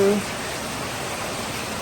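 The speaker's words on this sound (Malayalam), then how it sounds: "ഭയങ്കര മഴയാണ്" Heavy rain pours down in a steady, dense hiss that stays loud and even throughout, close by with no other clear sounds.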